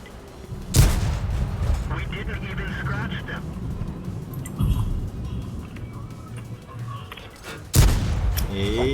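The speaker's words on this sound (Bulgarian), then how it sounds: "Ей, артата как ме удари." In a tank video game, artillery shells slam into the player's tank as three heavy, booming impacts spaced several seconds apart, with a low rumbling engine and battle noise continuing between them.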